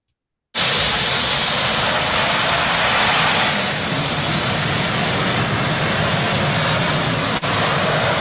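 A jet-powered tractor-pull machine bursts into a thunderous, sustained roar that holds loud and unbroken after a moment of silence, with no talking.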